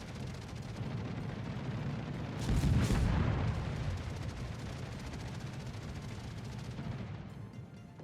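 Deep booming naval gunfire rumbles from a Tier V Russian destroyer, the Okhotnik, in World of Warships, with a loud swelling blast near the middle over a continuous low battle roar.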